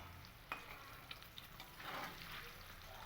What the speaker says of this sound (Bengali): পনিরগুলো আমি খুব ভালো করে একটু ভেজে নেব